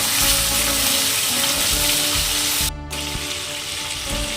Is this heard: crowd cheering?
no